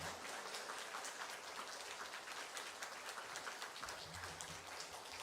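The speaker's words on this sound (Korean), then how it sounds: "박수로." A church congregation applauds to welcome an elder, a steady dense wash of clapping that holds at an even level throughout, heard from a distance.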